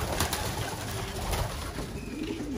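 Pigeons coo in a loft, with soft throaty cooing close by over a dense, continuous bed of fluttering and ambient noise.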